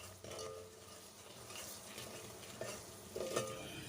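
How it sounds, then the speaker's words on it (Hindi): Masala spice paste frying and being stirred in a pan for a mixed vegetable dish, with a steady close sizzle and occasional scraping clinks of a spoon against the metal, no voices. "मसाले को अच्छी तरह से भून लेंगे।"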